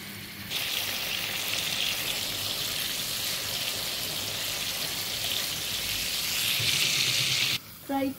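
Fish sizzles steadily in hot oil during curry cooking, a dense, loud frying hiss running almost unbroken and swelling slightly near the end before cutting off.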